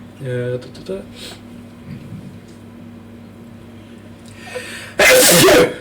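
Quiet murmuring voices and room noise at a Dungeons & Dragons tabletop game session, then one sudden, loud, sharp sneeze bursts out close by near the end.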